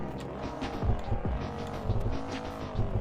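Mercedes-Benz GLS 63 performance SUV engine starting up, a deep, loud rumbling roar with throbbing revs and rising bursts throughout, close and continuous with no talk.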